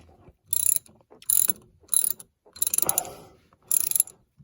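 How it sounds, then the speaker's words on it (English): Five short bursts of rapid ratchet clicking, crisp and close, as a hand ratchet tightens small brass bolts during a boat impeller replacement, separated by brief silent pauses. "I'm using the ratchet just because I have the boom thing in the way"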